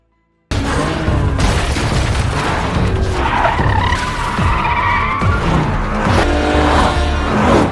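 Cars race through a movie chase scene, engines roaring loudly with repeated tire skids and squeals, heavy thuds and booms, and a dense, continuous mix of action sound.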